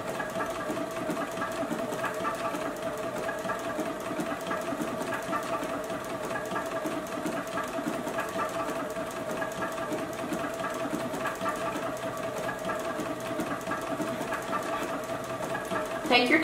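A JUKI sewing machine runs steadily, stitching a beverage coaster with a continuous mechanical whir that holds even for the whole stretch, with a brief louder burst at the very end.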